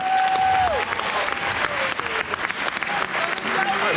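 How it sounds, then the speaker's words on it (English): Applause for the Spirit Committee fills a high school band banquet, a dense crowd clapping steadily, with voices and cheers mixed in. "can we give a round of applause one more time for our Spirit Committee?"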